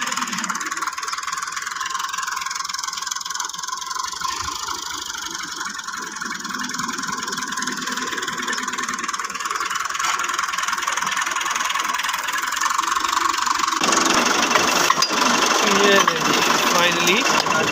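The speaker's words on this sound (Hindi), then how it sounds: "अभी इस ट्रैक्टर को जो है कनेक्ट कर दिया जाएगा इस ट्रॉलर के साथ" A tractor engine runs steadily nearby while the tractor is hitched to a trolley on a farm, a dense mechanical drone whose texture shifts and grows slightly brighter near the end.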